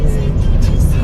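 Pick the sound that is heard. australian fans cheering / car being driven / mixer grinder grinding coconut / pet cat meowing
car being driven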